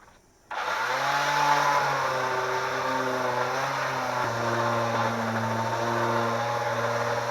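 A power sander whirs to life after a short silence and runs at a steady, loud drone with a slight shift in pitch partway through, sanding brush-stroked paint during restoration of a Pahi 31 boat.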